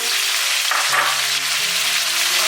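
Chicken and shiitake mushrooms stir-frying in a hot pan, a loud, steady sizzle with faint scraping tones running unbroken throughout, no voices.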